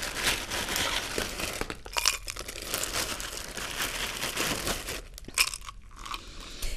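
Ice cubes go into a rocks-style margarita glass, a run of crunchy clinks and rattles that comes in bursts, close and moderately loud, with no talk.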